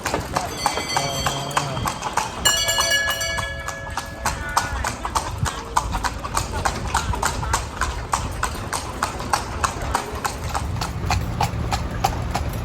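Steady clip-clop of a horse-drawn carriage's hooves on pavement in Lampang, Thailand, a regular trotting rhythm close by, with chatter and a brief tonal chime from the carriage bell over the top.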